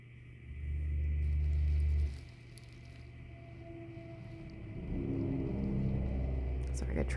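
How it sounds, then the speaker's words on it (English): Traffic, including trucks, passing by a house on a road: a deep, close rumble swells and fades, then a second low vehicle drone rises and holds to the end. "Sorry, I got traffic going by my house."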